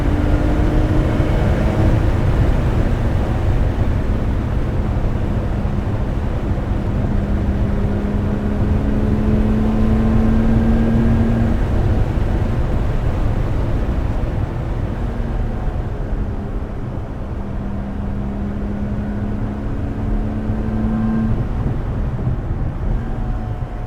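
A Lotus Exige Sport 410 runs at the Goodwood motor circuit, its engine tone rising in long sweeps through the revs under steady road and wind roar heard from inside the car, no talk.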